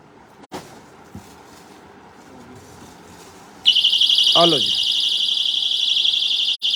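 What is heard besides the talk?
personal emergency alarm device sounding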